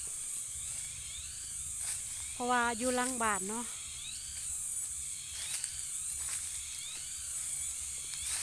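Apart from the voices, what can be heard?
cicadas buzzing behind a house near a coffee garden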